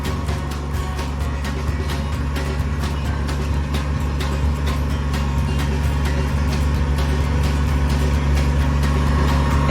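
An excavator trenching and scooping dirt on a building site runs as a loud, steady engine drone throughout, with a faint rhythmic ticking above the rumble and no voices.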